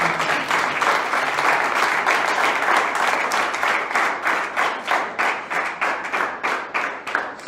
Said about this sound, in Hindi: मैं एक बार तालियों से चाहता हूँ कि इस पूरी टीम का